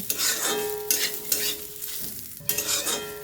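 Sunflower and pumpkin seeds fry in a little white cooking oil while being stirred in a pan, a close, bright sizzle broken by repeated scraping strokes, with no talking.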